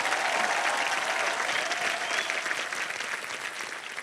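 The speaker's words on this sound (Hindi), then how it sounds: "तो जोरदार डबल तालियां।" Studio audience on the Hindi game show Wheel of Fortune breaks into loud, sustained applause, dense clapping filling the whole stretch and easing slightly toward the end.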